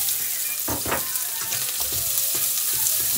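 Onions hit burning-hot olive oil in a pan and sizzle loudly and continuously, with a few sharper crackles and spits near the start, and no voices.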